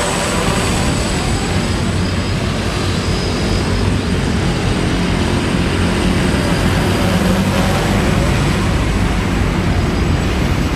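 A second-hand DJI Phantom 1 quadcopter drone flies close by, its loud rotor buzz a continuous steady roar throughout.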